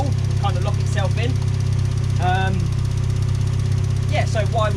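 Turbocharged Mazda MX-5 engine idling with a steady low hum while its exhaust wrap and turbo blanket cure. Someone talks over the constant drone.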